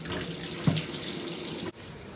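Tap water pours steadily into a bathtub for a baby's bath, a close, continuous rushing stream that cuts off abruptly near the end.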